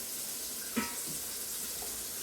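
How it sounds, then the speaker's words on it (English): Water runs from a tap into a big pan holding linen and cotton fabrics, a soft, steady rushing that stays even and fairly quiet. "I'm going to add some water"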